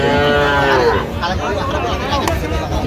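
Cows and calves at the Ambari cattle market, with a loud, close moo drawn out over the first second, followed by market chatter and murmuring voices in the background.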